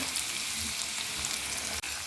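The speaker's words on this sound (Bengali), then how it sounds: "মাছ ভাজার পরে আলুগুলো ভেজে নিচ্ছি।" Potatoes frying in oil already used for frying fish make a dense, continuous sizzle, close and even throughout, with one brief dropout near the end.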